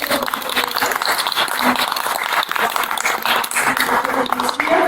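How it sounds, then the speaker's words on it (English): Applause from an audience at an arts centre event, a dense patter of clapping mixed with voices and chatter throughout. "I want to just hear a big round of applause"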